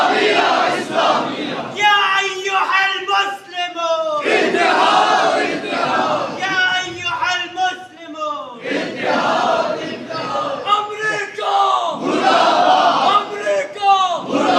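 A large crowd at a religious gathering chants slogans in loud, rhythmic bursts of massed voices, repeated several times with short breaks between, close and sustained throughout.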